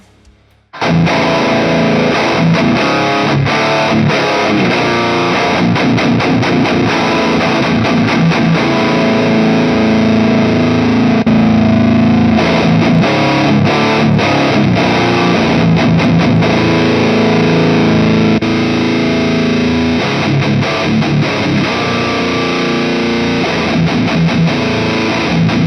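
Distorted electric guitar runs through three amplifiers via a KHE Audio amp-cab selector, playing continuously and loud with no talk, its tone shifting as the amp selector switches between amps.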